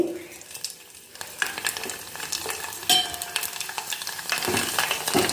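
Vadiyam, a steamed rice crisp, dropped into hot oil on a gas stove at low flame, frying with a steady crackling sizzle that swells into louder bursts of bubbling as the crisp puffs up, close and alone.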